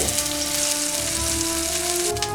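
Burger patty frying in too much hot oil, a loud, continuous crackling sizzle with spitting pops, a faint tonal hum beneath and no talking.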